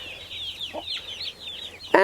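Hens cluck and chirp on a permaculture homestead in a string of short, bright calls close by, ending in a sharp sudden burst.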